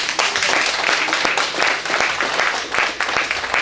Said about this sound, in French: Nous demandons un bel applaudissement pour nous.